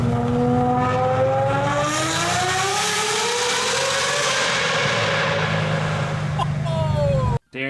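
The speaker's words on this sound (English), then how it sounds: "If you haven't heard his exhaust in this car before" A powerful V12 engine in a Batmobile replica revs hard and roars past at close range, its exhaust note rising and falling in loud sustained howls before cutting off abruptly.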